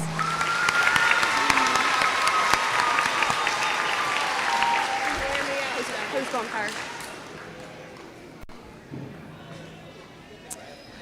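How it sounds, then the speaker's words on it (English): A room full of people applauding loudly at a 1st and 2nd grade school awards night, with cheering voices mixed in, the clapping gradually fading out after several seconds. "Let's give her a round of applause."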